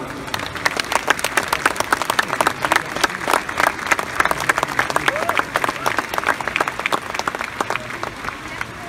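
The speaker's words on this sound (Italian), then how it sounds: "Anche un bel applauso per saluto." A large outdoor crowd in St. Peter's Square claps in sustained applause, many hands producing a dense, crackling wash with distinct individual claps standing out, steady for nine seconds.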